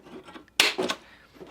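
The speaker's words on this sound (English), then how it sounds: "I've got a center punch, and all I'm going to do is pop a hole in the middle" A center punch strikes a motorcycle fairing on a Honda CRF450L during a Rebel X rally kit install, giving one sharp, close tap followed by a brief scraping rattle in a quiet workshop.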